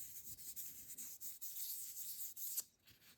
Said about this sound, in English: you can always take your pro polishing cloth and give it a polish